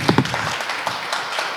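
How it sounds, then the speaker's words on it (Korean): Audience applause at an AI research institute anniversary symposium in Seoul, a short burst of clapping from a seated crowd, strongest at the start and thinning quickly. "여러분 큰 박수 주십시오."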